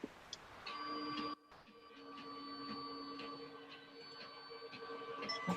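A 3D printer runs at an engineering demo day, its stepper motors whining in steady tonal notes with soft clicks and a brief pause, quiet and continuous with no voices.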